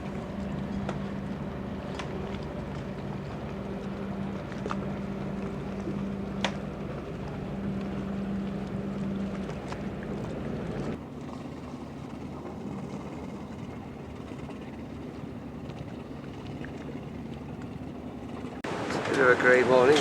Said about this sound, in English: one of the many ferries coming in here now